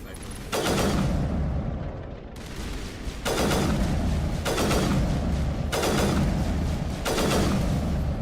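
Heavy booming gunfire in Mass Effect Legendary Edition on Insanity difficulty, five or six loud, sharply starting blasts with long decaying tails spaced about a second apart, each ringing into the next.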